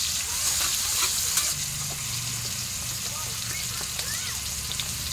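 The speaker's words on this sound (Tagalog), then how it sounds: "ginisa muna natin yung ating sibuyas, bawang, and then kamatis" Onions, garlic and tomato sauté in a pan with a steady soft sizzle and a few light stirring scrapes, heard at low level and close by.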